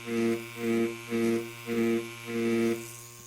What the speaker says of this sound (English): As you can see, I hold the needle slightly sideways to hide the needle structure.